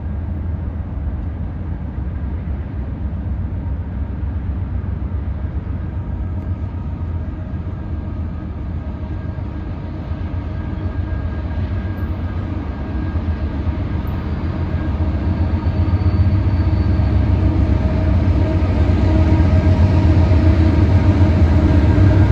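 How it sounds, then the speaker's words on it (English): A train passes at night bound for Wichita, a continuous low rumble that swells steadily louder toward the end as it draws nearer. "Still, it was a great treat to see this train."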